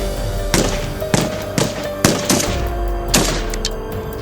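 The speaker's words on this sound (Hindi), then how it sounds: "गोलियों की तड़तड़ाहट से इलाका गूंज रहा था" Sharp cracking sniper rifle shots ring out one after another at irregular intervals, about seven bursts, loud with a booming echo between them.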